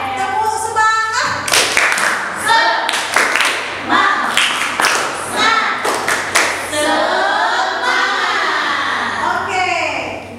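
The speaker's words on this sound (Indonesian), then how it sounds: "Kita tepuk semangat lagi dulu ya. Tepuk semangat." A school class performs the rhythmic 'tepuk semangat' spirit clap, sharp patterned bursts of hand claps interleaved with children's chanting voices and a teacher speaking.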